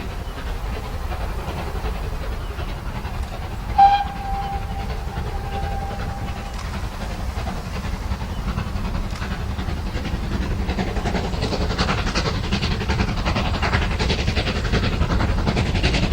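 GWR 4200 class 2-8-0 steam locomotive 5224 on the Mid-Hants Railway, a steady loud rumble and hiss throughout with a brief whistle-like tone near the start, building slightly toward the end.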